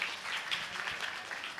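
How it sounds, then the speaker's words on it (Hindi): Church congregation clapping for a woman at a New Year Sunday service, a short burst of moderate applause from a crowd, fairly close and without speech. "ताली बजा देंगे आंटी के लिए"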